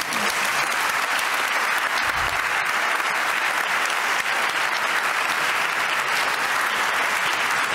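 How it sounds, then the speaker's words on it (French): Audience applauding at a 2023 student prize award ceremony, a steady, dense wash of clapping that holds evenly from start to finish with no talking over it. "Je pense qu'on peut vous applaudir déjà."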